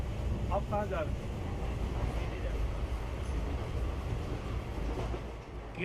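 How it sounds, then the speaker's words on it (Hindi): Steady rumble and rattle of a moving passenger train heard from inside a 3-tier AC coach, continuous and fairly loud, with voices talking faintly over it. "हमारे कोच से सटे 3 टियर AC क्लास में, जहां मंत्री प्रकाश जावड़ेकर ने यात्रा कर"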